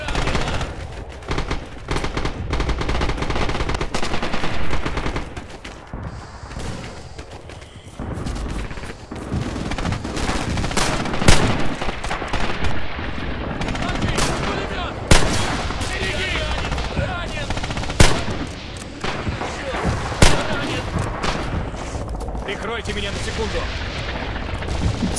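Gunfire in the video game Red Orchestra 2 rattles almost nonstop as loud shots and bursts mixed with heavy battle booms, while a voice talks over the din.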